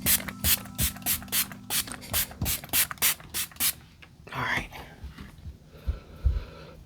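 A makeup setting spray bottle fires about ten quick, crisp spritzes in a steady rhythm, close by, followed by softer rustling and handling noises.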